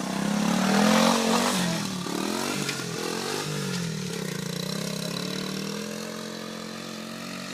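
A 1977 Honda CT90 trail motorcycle runs close by, its small single-cylinder engine buzzing steadily, rising in pitch briefly early on, then settling into an even drone while gears are shifted; no voices.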